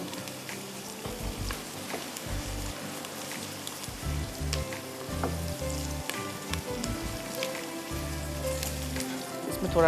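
Onions frying and browning in a pan for beef haleem, with a steady, close crackling sizzle like rain on a surface and a low rumble beneath, no voices heard.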